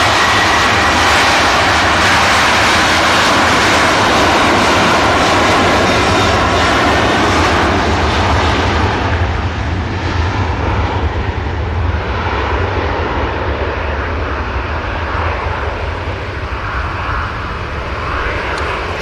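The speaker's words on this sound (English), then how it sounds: "So that green liner touches down." Airliner touching down on the runway at Manchester Airport, a loud sustained roar of jet engines that stays steady and close for the whole stretch before easing slightly.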